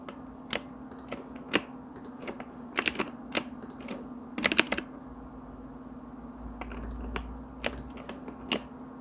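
Keyboard shortcuts typed on a computer keyboard while 3D modeling software is used to build a clothing item: sparse, separate clicks and short bursts of keystrokes, close and fairly quiet, over a steady low hum with no talk.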